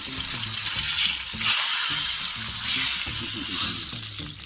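Fish fillets fry in hot oil on a home stovetop, a steady loud crackling sizzle running throughout with a brief lull midway and low background clatter.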